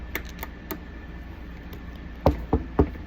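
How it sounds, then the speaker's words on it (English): Knuckles rap on a house door in a quick group of three knocks near the end, preceded by a few fainter taps over a quiet room background. "So she went to the house and knocked on the door."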